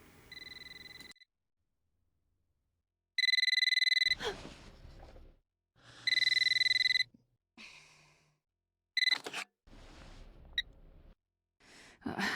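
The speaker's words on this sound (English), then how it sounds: "then she's going to get woken up by the phone" A telephone in the GameCube game Eternal Darkness rings in repeated electronic trilling bursts, loud and clear, separated by silences and short breathy sounds.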